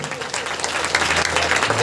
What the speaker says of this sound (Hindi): एक बार ताली बजाकर उसको महिमा देंगे